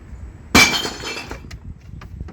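Clear glass bottles tossed into a recycling bin, one loud shattering crash of breaking glass followed by a second or so of settling clinks and rattles.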